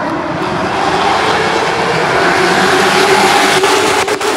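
Race cars roar together at the green flag at Hickory Motor Speedway, a loud, dense, sustained engine blare that swells slightly as the field passes close by.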